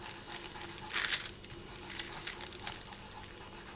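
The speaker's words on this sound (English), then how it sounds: "I do apologise about the scraping on the tile" Rough, gritty scraping of a hard tool across polymer clay on a smooth tile, in repeated strokes that swell loudest early on, close and alone.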